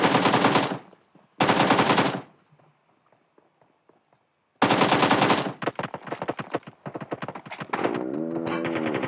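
Bursts of loud automatic gunfire in PUBG tournament play, two rapid volleys, a quiet gap, then a longer stretch of dense shots and clattering footsteps.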